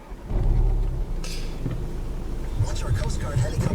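A 2015 Audi TT S Line quattro's 2.0 TFSI engine cranks and fires with a sudden low surge, then settles into a smooth, steady idle heard from inside the cabin, with a voice talking over it.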